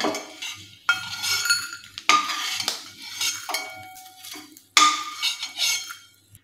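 A metal spoon scoops fried edible gum out of hot ghee in a pan, giving a series of sharp clinks and scrapes against the metal in uneven bursts, close and fairly loud, with no talking.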